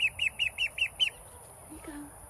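Ducklings peep close by in a quick series of about six high, bright chirps. They fade out, and a faint lower call and soft background noise follow.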